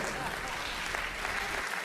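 Sustained audience applause at a French-language magazine event, a dense, steady wash of clapping from a large crowd with no breaks across the short stretch.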